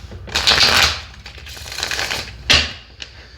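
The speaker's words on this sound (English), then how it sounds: "One more shuffle here" Tarot cards riffled and shuffled in a few quick bursts, crisp papery flutter up close with short pauses between, ending in a soft tap.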